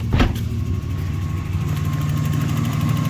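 Nissan Maxima engine idling at about 950 rpm, with new-style fuel injectors fitted, a steady low rumble and even mechanical hum recorded up close, with a brief clack near the start.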